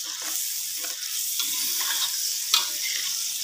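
Spice paste fries in hot oil with a loud, continuous sizzle and crackle, with soft spattering pops throughout and one brief sharper hit near the end.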